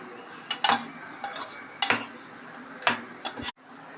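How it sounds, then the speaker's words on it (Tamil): A metal ladle scrapes and knocks against a pot as cooked toor dal goes in, with several sharp clinks spread unevenly over a few seconds, close and clear with no talking. "வேக வச்சா துவரம் பருப்பு 2 கரண்டி ஊற்றுறேன்"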